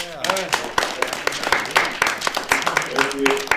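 A round of clapping for Bill Straus at a Panasonic KWN student news event, brisk and scattered with sharp individual claps, heard under a speaking voice.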